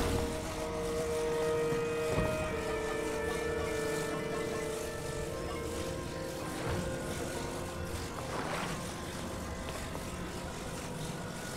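Zonai fans whir in Zelda: Tears of the Kingdom, a steady droning hum with faint tonal whine that carries evenly throughout, backed by a low rumble, with no talking.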